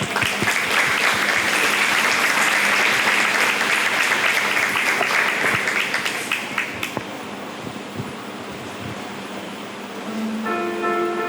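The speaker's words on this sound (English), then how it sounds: "A warm round of applause." An audience at the 2021 Fayette County Free Fair queen contest gives the pageant contestants a loud, sustained round of applause that slowly thins out, followed by a brief tone at the end.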